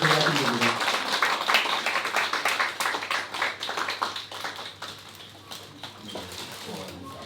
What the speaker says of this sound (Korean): 다시 한번 박수로 축하드립니다